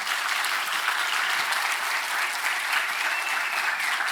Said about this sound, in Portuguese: Uma salva de palmas para o Jonathan.